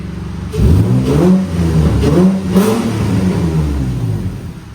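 A loud, close Nissan 350Z engine revs hard through an aftermarket exhaust with a deep, throaty roar, rising and holding before slowly easing off.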